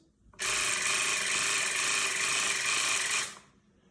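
A Zoopie Floss oral irrigator runs in pulse mode, giving a loud, close, steady buzzing drone for about three seconds that starts and stops abruptly, with no talking.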